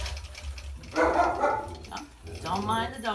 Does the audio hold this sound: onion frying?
no